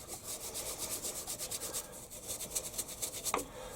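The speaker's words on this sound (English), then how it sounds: "I'm just going to have to use a brush and rotate the scroll with a chuck key." A brush scrubs debris out of the scroll of a Warco lathe chuck, giving steady rhythmic bristle strokes, close and moderately loud, with a brief sharper scrape near the end and no talking.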